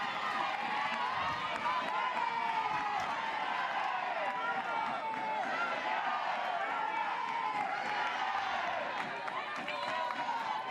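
Softball stadium crowd at an NCAA game between Oklahoma and California reacts loudly as Oklahoma's leadoff hitter comes up for the first pitch, a steady roar of cheering and voices that never lets up.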